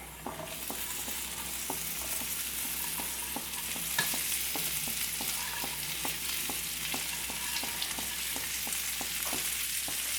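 Chopped okra (ladies' finger) frying in oil in a pan for a potato stir-fry, a steady close sizzle running throughout with regular light scraping strokes of a spatula stirring, no voices.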